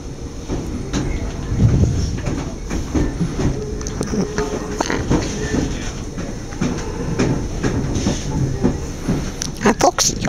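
A Class 313 electric train heading to Barnham rolls along the rails with a steady rumbling clatter and hiss, heard from on board, with some scattered clicks and knocks.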